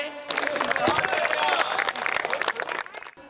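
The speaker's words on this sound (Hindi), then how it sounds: "गीत खत्म, तालियां बजाइए।" An audience claps after a comic Hindi poem recital, a dense burst of applause that swells quickly, holds steady, then thins out and stops.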